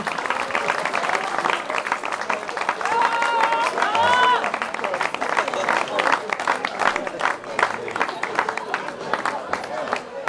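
Audience applause at a musicians' ball, a dense close wash of clapping from a crowd that carries on throughout, with voices and a short whistle mixed in.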